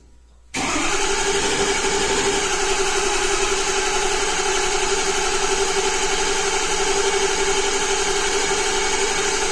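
A 2006 Ford F350 with the 6.0 diesel engine cranks continuously without starting, a no-start fault blamed on a failed ICP actuator; the steady, loud starter-and-engine drone begins abruptly and runs unbroken for about nine seconds.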